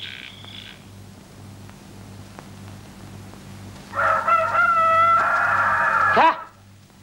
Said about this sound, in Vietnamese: Này Mai gà gáy